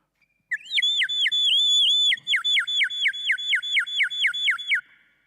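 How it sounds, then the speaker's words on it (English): An electronic water tank device whistles a melodic tune when the tank is full, a sustained warbling phrase followed by a run of about a dozen quick repeated chirping notes, loud and clear with no talk over it. "when it reached the right time, it starts whistling something like this"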